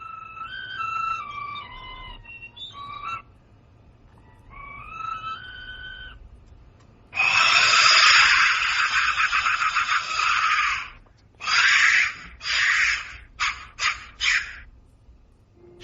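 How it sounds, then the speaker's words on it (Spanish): Clay skull-shaped Aztec death whistle, first giving a few shrill gliding whistle tones, then loud harsh rushing screams in long and short bursts, close and piercing, with no talk. "Sonido percutiendo el interior de uno de estos silbatos intactos de la muerte"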